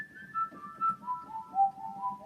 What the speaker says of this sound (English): Whistle sound is not so good.